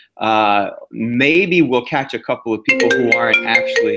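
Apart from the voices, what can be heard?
phone ringtone from an incoming call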